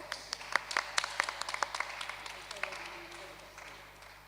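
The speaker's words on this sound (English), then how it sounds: "Round of applause." A church congregation at a Baptist conflict resolution seminar claps in a round of applause, with a cluster of sharp claps early that thins out and fades over a few seconds.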